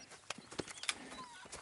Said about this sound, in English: I've been meaning to offload this big Shire horse for a while now.